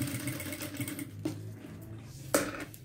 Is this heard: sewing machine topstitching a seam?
yes